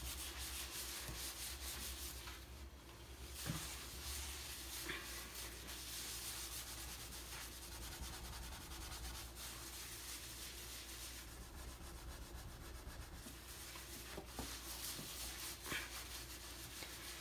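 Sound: scrubbing burnt residue off a stove

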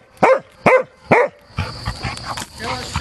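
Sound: dog barking and whimpering

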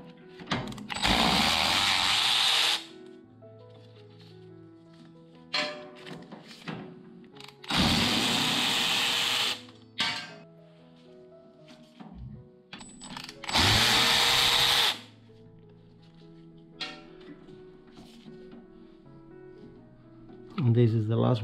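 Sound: power tool removing T45 bolts from BMW brake rotor

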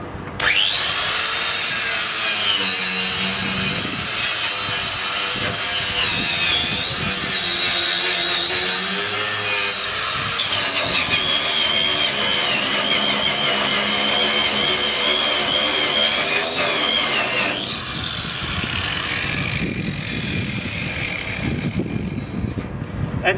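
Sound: Twistknot wheel brush on 5-inch angle grinder removing rust

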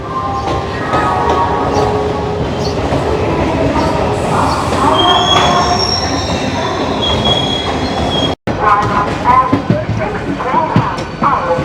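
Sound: Howrah-Puri Vande Bharat Express train departing Howrah

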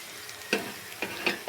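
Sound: dried red chilies frying in oil for chutney

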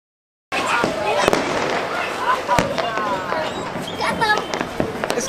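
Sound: Diwali firecrackers being set off

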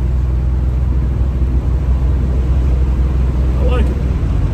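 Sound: Buick Grand National car running while driving

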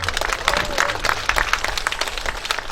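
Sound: audience applause

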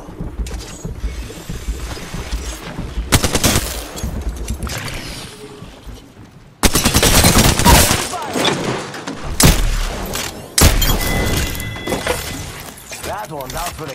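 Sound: gunfire in the video game Apex Legends

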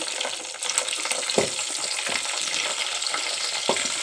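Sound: green chilies frying in hot oil for brown rice khichdi

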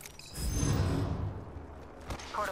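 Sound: Crypto's drone being recalled in Apex Legends video game

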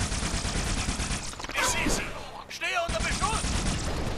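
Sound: gunfire in video game Halo: Spartan Assault

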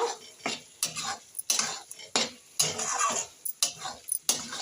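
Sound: sautéing cauliflower with spices in a pan

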